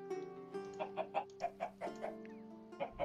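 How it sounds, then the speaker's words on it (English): Chickens in the Terrafirmacraft video game give a string of soft, rhythmic clucks, faint and fairly close, over a steady musical tone. "some chickens."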